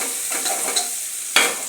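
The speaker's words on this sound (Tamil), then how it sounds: "பயங்கர ஸ்பீடாக கிண்டுறாரு பாருங்களேன்" A husband stirs food very fast in a frying pan, making quick, rhythmic scraping strokes over a constant sizzle, with one sharp, louder clatter near the end.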